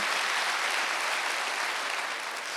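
A church congregation at a Wednesday worship service breaks into steady, dense applause that fills the room for the whole stretch, with no talking over it.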